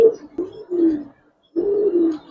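Giribaz pigeons coo in low, soft, rolling calls, three short bursts, a pause, then a longer one, close by with nothing else around.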